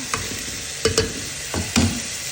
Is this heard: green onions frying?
yes